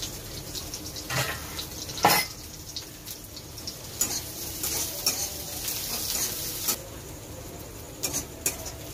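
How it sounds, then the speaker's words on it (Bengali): Onions fry in a pan in a village kitchen, a soft sizzle broken by scattered clinks and scrapes of stirring, with a sharp knock around two seconds in and no talking. "পেঁয়াজটা একটু ভাজা ভাজা হবে, মানে হালকা একটু লাল হবে"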